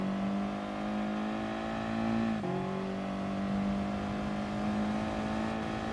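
A Ferrari race car engine in Gran Turismo Sport holds a steady high drone, then dips briefly as a gear shifts and climbs back. The loud, continuous tone runs alone with no voices.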